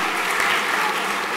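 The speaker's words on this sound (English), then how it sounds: "Let's give our competitors a round of applause." A round of applause for competitors at a morning chapel gathering, dense even clapping from a group that stays steady and fairly loud for the whole short stretch.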